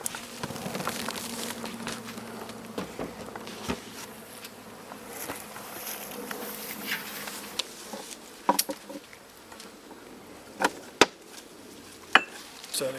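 Honey bees buzz steadily around the hives of an apiary, a continuous insect drone with a few sharp knocks and taps rising over it.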